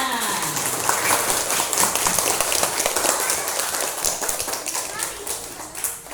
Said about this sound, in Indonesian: Tepuk tangan semuanya.